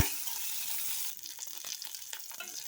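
Onion, garlic, ginger, dried red chilies, curry leaves, cinnamon and cloves sautéing in oil for a brinjal kuzhambu, giving a bright, steady sizzle with a spoon stirring and scraping the pan up close.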